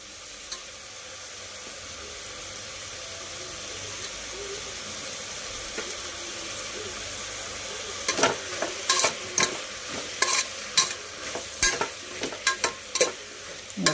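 Tomatoes frying in a pan for a broad bean curry, a soft steady sizzle at first, then repeated sharp scraping stir strokes becoming frequent and louder toward the end, close by with no talking.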